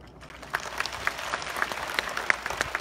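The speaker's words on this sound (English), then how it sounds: "Let's give him another round of applause." Audience applause at a Chan and Pureland light offering ceremony, a steady wash of many hands clapping that swells after a quiet start and holds moderately loud for a few seconds, with no talk over it.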